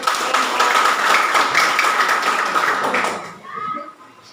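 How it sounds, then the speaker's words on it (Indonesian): A group claps together after a group discussion presentation, a steady burst of hand clapping for about three seconds that then cuts off, leaving brief quieter sounds and voices. "Tepuk tangan buat"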